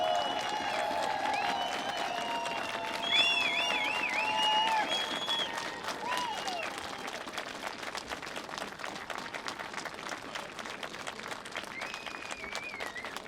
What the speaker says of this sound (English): Please give them all of your applause